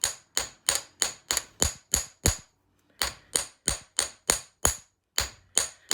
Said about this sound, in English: it's just your normal hitting with your chasing hammer in this specific area, and you're just hammering and splaying out that end a little bit.